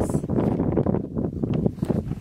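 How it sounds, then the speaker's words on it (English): Gusty wind buffets the microphone in a roofless, windowless Jeep on a cold day, a steady low rumble that swells and dips continuously for a couple of seconds. "it's windy and we don't have top on the Jeep or windows or nothing"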